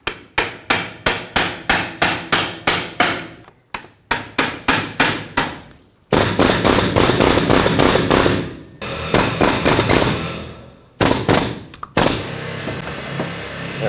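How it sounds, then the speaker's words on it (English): Repeated heavy hammer blows in quick bursts on a 1998-2011 Ford Ranger front driveshaft, close and loud, then harsher continuous clanging and scraping of a metal pry bar on metal. "Looks like a hammer alone won't do it, so I'm going to get a pry bar"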